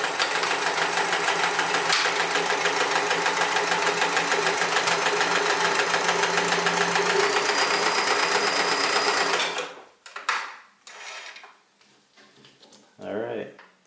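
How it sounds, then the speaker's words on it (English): A Sears Kenmore 158 series sewing machine runs a long straight stitch at its biggest stitch length, humming and clattering steadily and close by for about nine seconds before it stops and a person starts talking. "Do the biggest stitch it'll do, and then just a straight stitch."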